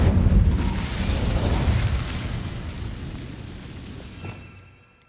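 A fire spell cast in the video game Hogwarts Legacy goes off as a loud, roaring burst that holds briefly and then trails away into near silence.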